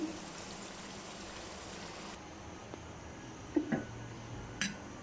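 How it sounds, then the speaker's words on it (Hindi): Water poured steadily into a cooking pot of potato and egg curry for about two seconds, then stops, followed by a few faint clinks and soft knocks. "अभी मैं इसमें थोड़ा और पानी ऐड करूँगी।"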